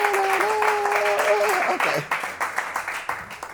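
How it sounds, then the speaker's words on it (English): Audience applauding at a dance event in Italy, a dense wash of clapping with a sustained musical tone running under the first half, then thinning into scattered, separate claps toward the end. "please, a big applause for Alexia Gesso from Italy."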